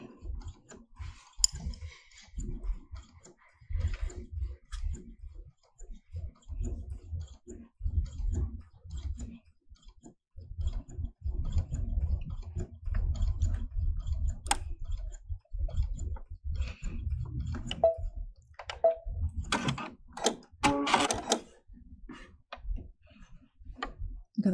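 A sewing machine stitches a flat felled seam with soft, rapid mechanical ticking in several runs, close but quiet, with short pauses and a few sharper clicks near the end.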